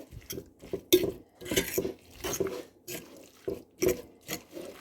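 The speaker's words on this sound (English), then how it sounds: "Now we're just going to mix this all up" Corn fritter batter being mixed by hand in a bowl: a lumpy, wet slapping and scraping of a spoon in repeated strokes, close and fairly loud.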